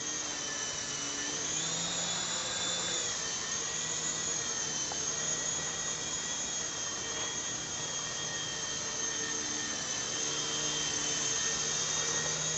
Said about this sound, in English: the helicopter is really quite nice